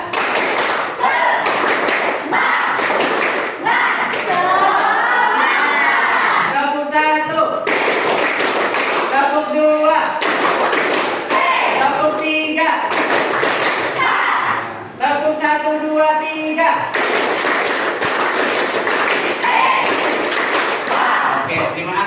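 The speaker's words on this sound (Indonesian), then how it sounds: "Tepuk semangat." A school class does a rhythmic 'tepuk semangat' clapping ice breaker, with loud bursts of patterned group clapping alternating with chanted and spoken voices across the room.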